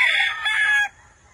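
A Kelso Sweater gamefowl rooster crows once, close and loud, with a bright strained call that cuts off abruptly into quiet.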